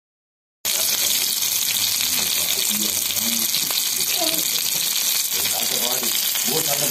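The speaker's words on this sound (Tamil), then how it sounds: "ஃபிஷ் ஃப்ரை பொறிக்க ஆரம்பிச்சா" Fish fries in hot oil in a home kitchen, a loud, steady sizzle and crackle starting abruptly and continuing without pause, with faint voices underneath.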